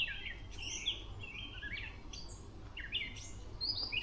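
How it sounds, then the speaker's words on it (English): A gray catbird calls during a morning walk in Belfast, Maine, giving a series of quick, squeaky mewing and chattering phrases, moderately near, over faint outdoor background noise. "Okay, we get another gray catbird."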